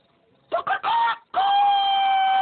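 A person's voice imitates a chicken, giving a few short clucking bursts followed by a long, sustained crowing note, close and clear.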